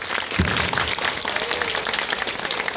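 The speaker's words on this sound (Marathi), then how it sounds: "जोरदार टाळ्या या ठिकाणी वाजवायच्या." Audience applause at a World Tribal Day event in Maval, a steady wash of clapping from a crowd that holds evenly for about three seconds with no talk over it.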